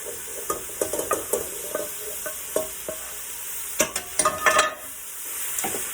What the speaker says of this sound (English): We're going to sweat this down, cook it down for about 15 minutes.